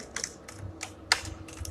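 A domain name is typed on a computer keyboard in quick bursts of close, crisp key clicks separated by short pauses.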